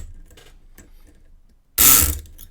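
A Multipick Kronos electric lock pick fires a single loud, buzzing mechanical burst of about half a second inside a lock, following faint clicks and fiddling.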